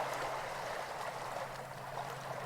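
A forest river stream flowing steadily, a soft continuous babble and gurgle of water heard at moderate distance with no voices.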